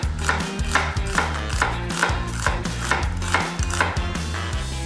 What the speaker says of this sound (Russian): И нарезаем лук полукольцами или кольцами тоненько-тоненько.